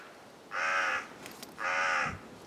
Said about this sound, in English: The crow's singing.